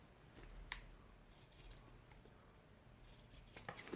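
Scissors snip a candle wick for a homemade blackout lamp, giving one sharp, close click followed by a few softer snips and handling rustles in a quiet room.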